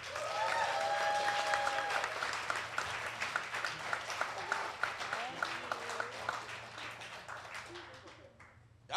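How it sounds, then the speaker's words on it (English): A youth comedy night audience breaks into sustained applause for a comedian taking the stage, a dense crowd clap that holds steady throughout, with faint voices mixed in and a sharp sound at the very end. "Please put your hands together for the very funny Sizzle C."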